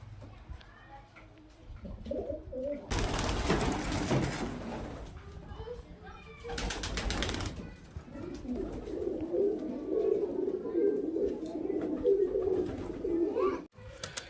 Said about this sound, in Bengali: এটা মাদি পায়রা ছাতি মতো মাদি পিওর দেশি পায়রা